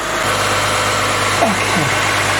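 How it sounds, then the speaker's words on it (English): A 2006 Lexus IS350 engine idles steadily after an oil change, a constant low hum heard close up with a brief faint sweep partway through. "just started up the engine"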